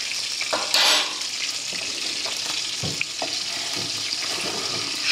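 Butter melts over low heat in a pot with potatoes, making a soft, steady hiss and light bubbling with a few faint stirs and knocks.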